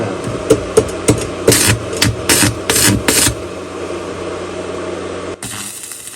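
A Weldinger EW181W inverter welder runs an arc with a 3.2 mm electrode at about 132-135 A, crackling and spitting loudly in bursts with sharp pops and a steady hum, then easing into a quieter buzz.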